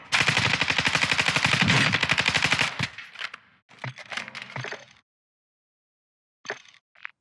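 A 5.56 rifle in Call of Duty DMZ fires a long rapid automatic burst, loud and close, then a few shorter bursts and a couple of isolated shots separated by silence.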